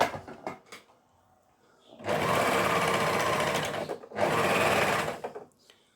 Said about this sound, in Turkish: Şimdi başlayacağım dikmeye.